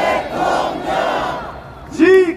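A rally crowd at Cheonggye Plaza chants a slogan together in loud rhythmic shouts, followed by a single strong voice calling out.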